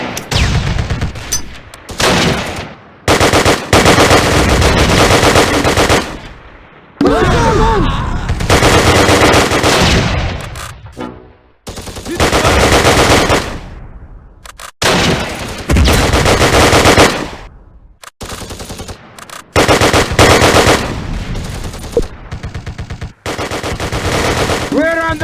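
Machine gun fire in the World War II strategy game Close Combat: long, loud, dense bursts of automatic fire broken by short silences, with shouted voices mixed in between volleys.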